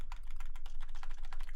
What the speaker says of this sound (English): I'm changing my search engine with the arrow keys.